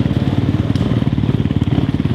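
A motocross motorcycle engine runs loud and steady with a fast pulsing beat, pushing up a steep enduro hill at Tong. The bike is close and nothing else competes with it.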